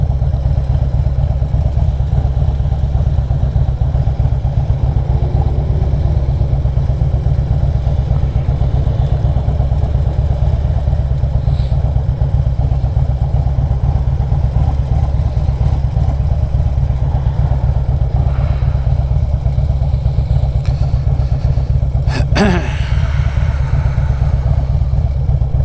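Vehicle engine idling, a steady loud low rumble running unbroken throughout with a brief clatter near the end.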